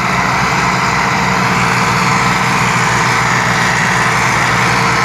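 Two Massey Ferguson 260 tractors haul a trolley loaded with sugarcane, their diesel engines droning in a loud, steady low rumble with a regular chugging pulse.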